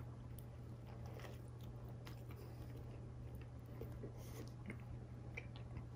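A bite into a Zaxby's signature chicken sandwich, with soft faint crunching and chewing close up in an otherwise quiet room, under a steady low hum.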